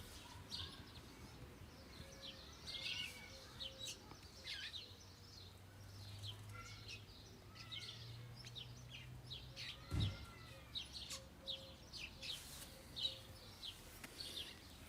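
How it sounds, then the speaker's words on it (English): Birds chirping and calling outdoors across a quiet background, with scattered tweets and a few clucking fowl calls at moderate distance, plus a low steady hum and one brief thump. "Birds have opinions."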